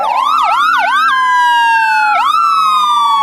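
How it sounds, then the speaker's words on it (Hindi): A loud police car siren whoops several times in quick rising-falling yelps, then settles into a steady wail, close by, in a cartoon. "फिर कुछ ही देर में वहां पुलिस की गाड़ी आ गई।"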